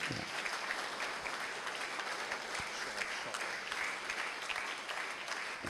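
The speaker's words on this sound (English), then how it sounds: "this applause should not stop" Steady, continuous applause from an audience at a Universal Brotherhood Day ceremony, dense clapping held at an even level for several seconds with no talk over it.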